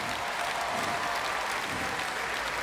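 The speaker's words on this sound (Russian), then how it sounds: "прошу аплодисментов не для себя," Dense, steady applause from a large concert audience at a televised festival show, continuous and broadband for the whole stretch with no talk over it.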